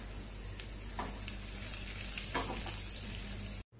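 Dried red chillies sizzling in hot oil for a tempering, a close, even crackling hiss with a few soft pops, cutting off abruptly at the end.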